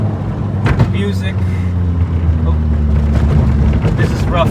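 Lotus Elise with a decat straight-pipe exhaust and Sonic Fury muffler, its engine droning loud and close at steady cruise over rough road, with a brief sharper burst early on.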